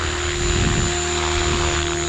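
A Synergy 516 RC helicopter in flight at raised head speed gives off a steady, close, high-pitched rotor and motor whine that holds an even level throughout.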